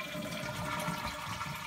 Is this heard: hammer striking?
no